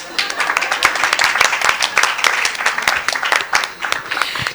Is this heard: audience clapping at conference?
yes